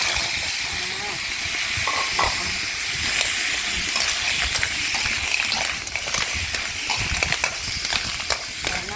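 Clams stir-fried with Thai curry paste in a pan give a continuous hissing sizzle broken by scraping stirs and small pops, with a voice faintly present at times.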